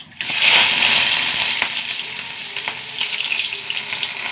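Mustard seeds and onion sizzle in hot coconut oil for a cheera curry, a loud burst of frying hiss that settles into a steady crackle with scattered pops, close and with no voices.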